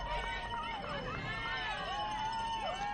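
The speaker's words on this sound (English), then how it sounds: "You can hear the crowd giving her a lot of support as she passes in to this checkpoint right" A crowd at an ultra-trail race checkpoint in Australia makes a steady, moderately loud hubbub and cheers as a runner comes through, with the noise holding evenly for the whole stretch.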